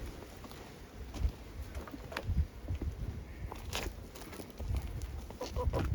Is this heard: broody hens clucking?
yes